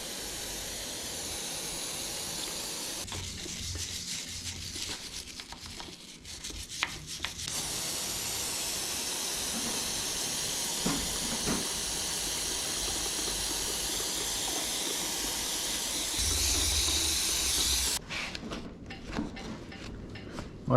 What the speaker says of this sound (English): let's grab some brake cleaner and let's get to work